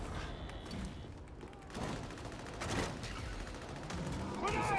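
Grenades and gunfire in the video game Darktide, a dense continuous barrage of shots and explosions with booming bursts, loud and sustained, and a voice talks faintly underneath.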